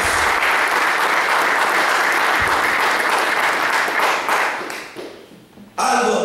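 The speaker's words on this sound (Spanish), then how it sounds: "Denle un fuerte aplauso al Señor." Applause from a church congregation during a sermon, loud sustained clapping that carries for several seconds, then thins and fades before a sudden burst of other sound at the end.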